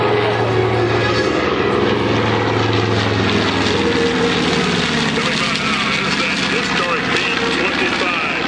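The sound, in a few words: airplane on takeoff roll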